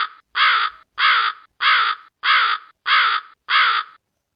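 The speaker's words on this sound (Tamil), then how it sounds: "காகம்," A crow gives seven loud, harsh caws at a steady, even rhythm, each clearly separated by silence.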